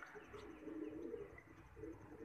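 Soft, low pigeon coos murmur close by, faint and continuous, with light rustling behind them.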